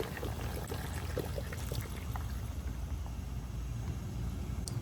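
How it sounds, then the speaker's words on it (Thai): Coconut milk poured into a pot of vegan spicy coconut curry: a steady, close, gurgling pour that runs continuously and fairly quietly for several seconds with no voices. "ใส่กะทิลงไปเลย"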